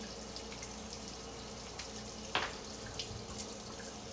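Tap water runs steadily into a sink while a makeup foundation brush is rinsed, a soft continuous hiss with a few faint splashes and flicks, fairly quiet and close.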